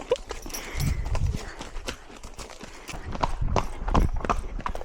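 Pony hooves clip-clopping on a road during a tourist ride, a close, uneven series of hoof strikes with faint background voices.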